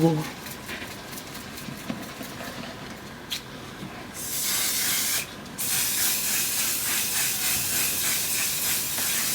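A long steady hiss from a nearly empty Until Dawn cosmetic setting spray bursts on after a few seconds of quiet talk-like murmur, pauses briefly, then continues in loud pulsing sprays.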